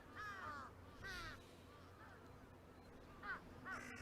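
Crows caw in short repeated calls against quiet morning ambience in the Chaos;Head Noah video game, a pair of calls early, one in the middle and a couple more near the end.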